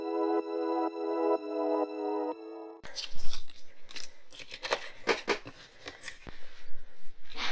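Paper pieces for a scrapbooking shaker card are cut out, giving close, crisp snips and rustles that follow a brief bit of tonal music at the start.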